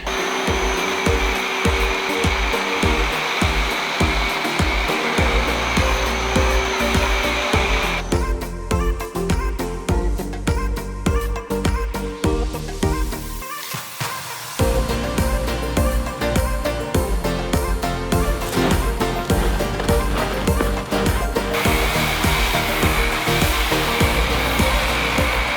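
A pressure washer sprays a Mazda RX7 in a steady, loud, continuous hiss and roar, briefly dipping and shifting in tone midway as the spray moves before resuming at full strength.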